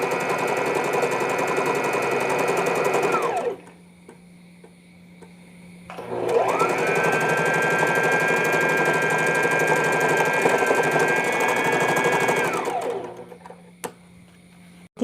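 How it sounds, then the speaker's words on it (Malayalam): Sewing machine stitching down both sides of a smocked dress with satin ribbon inside. Two long, steady runs of fast, close whirring, each ending as the motor winds down, with a short quiet gap between them and no talking. "ഇനി 2 സൈഡും സ്റ്റിച്ച് ചെയ്യുക."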